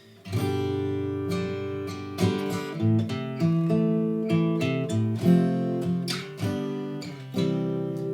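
Guitar picks out broken-chord arpeggios, moving through a short chord progression and settling on a final chord, clear and close with no voices.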